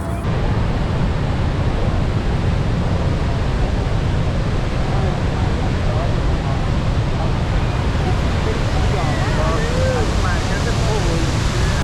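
Niagara Falls waterfall in Canada, a loud, continuous rushing roar heard up close that stays steady throughout, with faint voices mixed into the noise.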